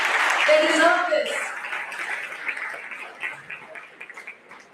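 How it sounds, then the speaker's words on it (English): An audience applauds the organizing committee at a university law event. A voice speaks briefly over the opening, then a crowd's clapping carries on as a fairly close wash that gradually thins and fades. "So huge round of applause for my OC."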